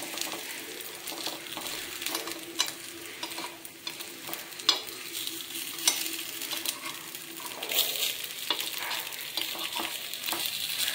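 Appe made from idli batter sizzle steadily in an appe pan while they are flipped one by one, with a spoon giving light clinks and taps over the continuous frying.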